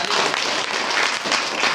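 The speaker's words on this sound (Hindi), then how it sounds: "चलिए एक ताली लगा दीजिए" Schoolchildren in a classroom give a short round of clapping, a dense steady patter of many small hands lasting under two seconds, fairly close and with no talking over it.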